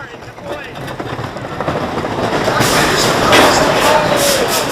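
A Great White wooden roller coaster train rumbles and rattles along its track in a steady, building roar with scattered clacks, loud and close from the front car.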